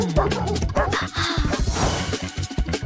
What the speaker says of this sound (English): we've got to deal with these wolves